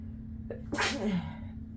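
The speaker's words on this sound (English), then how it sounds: "I'm gonna sneeze." One loud, close sneeze with a brief catch of breath just before, over a steady low electrical hum, with no talking.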